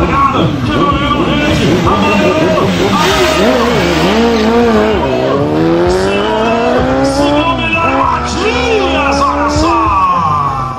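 A pair of 1000cc motorcycles roars off the line at a drag race, engines revving loud and rising in pitch, while an excited commentator talks continuously over the racket.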